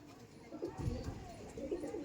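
Pigeons of the Andhra Madrasi flying breed cooing in soft, low repeated phrases at close range, with a few louder coos near the middle and some faint voices in the background.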